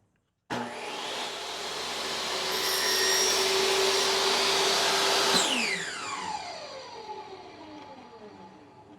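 Power saw slicing a wooden board against a fence while making entrance reducers, starting abruptly with a loud whirring cut that builds and holds, then spinning down with a falling whine.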